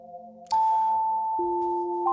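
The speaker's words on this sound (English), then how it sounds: "I'm just using a simple sine wave, nothing more than one oscillator and a simple sine wave here." Hydrasynth synthesizer producing pure sine-wave tones from a single oscillator, clean steady notes that overlap and shift pitch, bright and sustained with no talk.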